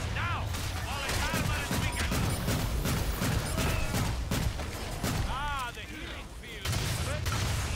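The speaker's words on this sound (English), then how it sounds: "Got the rockets flying." Rockets firing in the video game Evolve, a dense barrage of repeated booming blasts and whooshing launches with a continuous loud rumble, mixed with game effects.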